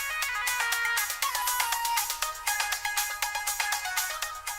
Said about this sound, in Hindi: बेल बज रही है, देखो जाके कौन आया है।